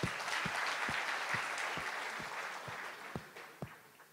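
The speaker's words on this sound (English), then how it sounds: "Let's have a round of applause for them." Audience applause for teams at an engineering quiz event, a steady wash of clapping at moderate distance with a few sharper claps standing out and a low rhythmic thump beneath, tapering slightly toward the end.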